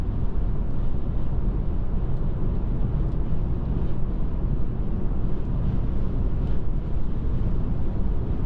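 Steady wind noise rushing against a Tesla driving on Full Self-Driving through central Wichita, Kansas, a constant low roar filling the whole stretch without letup.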